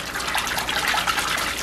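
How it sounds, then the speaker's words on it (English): Bath water being agitated by hand to make bubbles with a bath bomb, a close, steady splashing and churning wash of water with no voices. "just starting to agitate the water a little bit starts to just make the bubbles"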